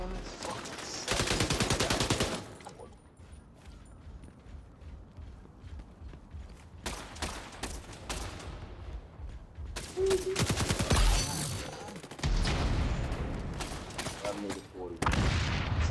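Gunfire in the video game XDefiant comes in loud bursts of rapid shots separated by quieter stretches of footsteps and game noise, with a distinct sharp crack near the middle.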